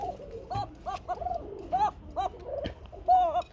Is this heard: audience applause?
no